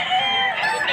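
A gamecock at a poultry sale in Padre Garcia, Batangas lets out one sustained, loud crow lasting about a second, close to the microphone.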